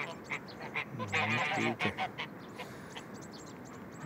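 Farm ducks roaming out in spring quack in several short bursts while eating leftover feed, close by and fairly loud. Someone speaks briefly over them.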